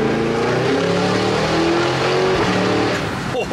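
Cadillac Escalade-V engine pulling hard under acceleration, a loud rising roar with stepped pitch changes as the gears shift, heard from inside the vehicle.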